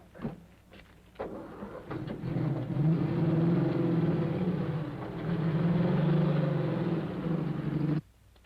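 A car drives up in the 1933 film, its engine rumbling steadily for several seconds, rising in loudness as it approaches and then cutting off abruptly as it stops.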